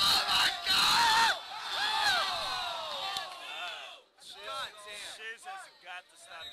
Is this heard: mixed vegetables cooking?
no